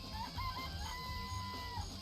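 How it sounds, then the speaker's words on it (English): Chickens cluck and a rooster crows inside a chicken coop in the Danganronpa video game, with several bird calls overlapping in quick succession. The sound is moderately loud and steady over a low background hum, and no one speaks. "Remember there were some chickens in the chicken coop?"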